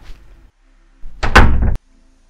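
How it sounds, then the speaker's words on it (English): An interior door in a Chicago Gold Coast home slides and closes with a short rumbling roll ending in a firm thunk, loud and close, after a brief quiet stretch. "you can completely close that door"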